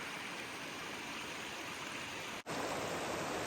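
A river on the Arizona Trail rushes in a steady, loud, unbroken wash of water noise, with a brief dip near the end before the roar resumes.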